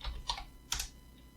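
Fingers typing a chat command on a computer keyboard, a few quiet scattered key clicks in two short bursts, faint and close, with no talking.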